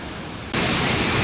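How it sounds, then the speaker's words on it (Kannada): Abbey Falls near Madikeri, crowded with visitors, roars as a dense, steady wash of rushing water that jumps suddenly louder partway through. "ಹಾಲಿನಂತೆ ಉಕ್ಕುತ್ತಿದೆ ವಾಟರ್ ಫಾಲ್ಸ್"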